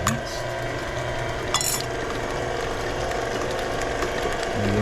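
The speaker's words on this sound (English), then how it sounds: "And we incorporate our eggs." Eggs being mixed into banana bread batter, a steady scraping and clinking of a utensil against a bowl with repeated rhythmic strokes, close and continuous.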